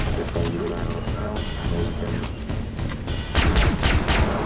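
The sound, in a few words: laser gun firing in the video game Far Cry 3: Blood Dragon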